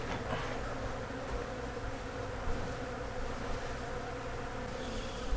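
Dense, steady buzzing of a large bee colony around a hive being removed from a structure in Pasadena, Texas, continuous and close throughout.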